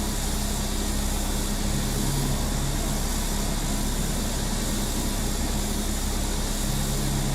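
Airplane engines in a flight simulator game set over Scotland bush terrain, a steady, loud droning roar that holds without pause throughout, with a low hum and broadband rush.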